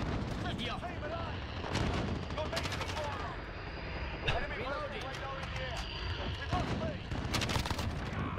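Rapid gunfire and explosions from a Modern Warfare match, dense bursts of shots crackling continuously throughout, loud and close, with voices talking over the combat.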